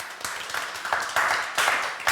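A group claps for a student who has found a job, a short burst of scattered hand claps that swells in uneven waves, fairly close and without talk.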